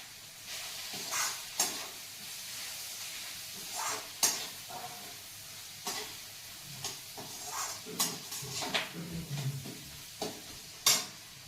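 Onions salted in a pan sizzle and hiss steadily for a homemade sabji, with occasional scraping stirs and utensil knocks over the constant frying noise, close by.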